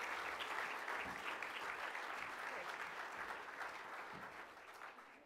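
Conference audience applause at the close of an event, a dense even patter of many hands clapping, fairly distant and fading slightly toward the end.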